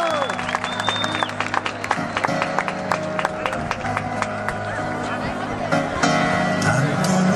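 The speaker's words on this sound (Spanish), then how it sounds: "Fuerte el aplauso." Applause from the audience at the Gonzalo Higuaín 2012 football tournament award ceremony, for the first-place Prebenjamines team from Lincoln: steady crowd clapping mixed with chatter and voices, sharp claps standing out near the front.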